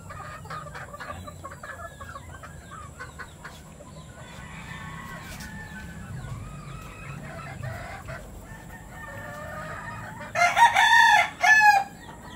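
Chickens and a rooster in a backyard pen of fighting-cock stock, with soft clucks and calls throughout under low ambient noise, then a loud, close rooster crow near the end.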